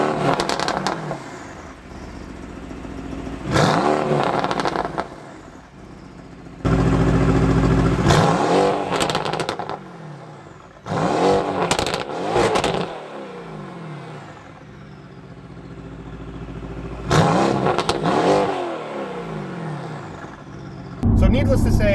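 Mercedes-AMG GT R with an aftermarket Fi exhaust system revved while parked, several loud bursts of rising engine roar separated by quieter idle stretches, close and dominant.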